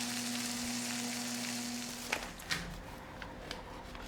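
Longanisa patties frying in a pan, a steady close sizzle filling the clip with a low hum underneath and a few brief clinks or scrapes near the end.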